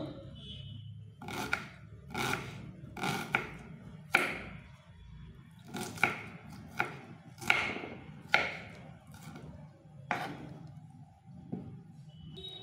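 Onion being chopped with a knife on a board for a salad of sprouted chickpeas: a series of distinct, fairly close cutting thuds at an uneven pace, about a dozen strokes, with no talking.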